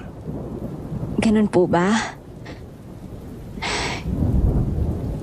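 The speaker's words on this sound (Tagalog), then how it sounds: "Hindi ko naman po inakalang uulan ng ganito kalakas." Heavy rain falls steadily with low rumbling thunder building toward the end, a constant wash of noise beneath brief speech from a woman.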